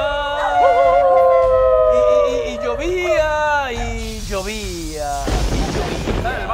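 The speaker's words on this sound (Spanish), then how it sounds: "Y los lobos a aullar." A radio drama sound effect of wolves howling in long, rising and falling overlapping calls, with dogs barking and yelping as the effect fades into a rushing noise.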